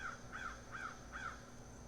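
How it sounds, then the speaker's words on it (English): A crow caws four times in an even rhythm outdoors, moderately distant and clear against a low steady background hum. "I think there's a crow saying hello"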